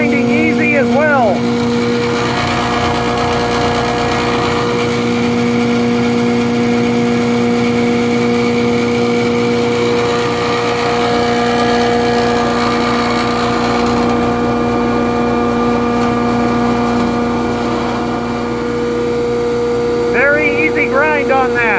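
Hammer mill grinding salt crystals, a loud steady mechanical whine and hum with sustained tones and a constant rushing rattle throughout, with brief voices near the start and end.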